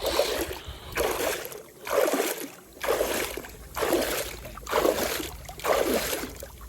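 Rhythmic splashes of feet kicking through water, about six evenly spaced swishes close by, with quieter gaps between them.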